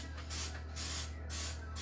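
A kitchen oil spritzer filled with olive or vegetable oil gives four short, evenly spaced hissing sprays, like an aerosol can. Each burst is close and crisp, with brief pauses between them.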